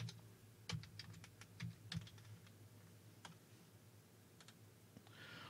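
Typing on a computer keyboard, a quick burst of faint soft key clicks followed by a few scattered taps, quiet against low room hum.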